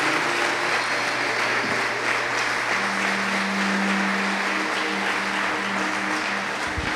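A congregation in a church applauds, a dense, steady wash of clapping that holds at an even level from start to finish.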